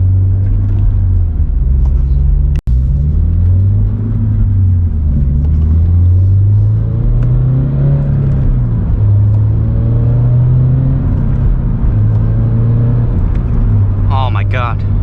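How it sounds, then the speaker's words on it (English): A car engine idles while warming up, giving a steady, loud, close low rumble that runs the whole time, broken by one sharp click early on. "I'm still letting the car warm up."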